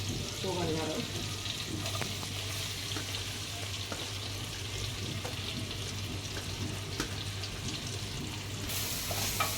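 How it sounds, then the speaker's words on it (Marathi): Finely chopped onion sautéing in melted butter for chicken pav bhaji, a steady, close sizzle and crackle with occasional stirring scrapes that continues throughout. "आता व्यवस्थित परतून घेऊया।"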